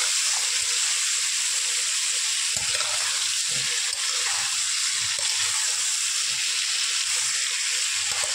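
Pointed gourd (potol) with turmeric fries in oil over low heat, giving a steady, close bright sizzle and hiss with soft occasional stirring clinks, no voices.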